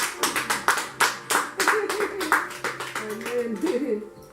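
A church congregation claps rhythmically in acclamation during a Sunday worship service, steady hand claps close and loud with voices singing and calling out over them.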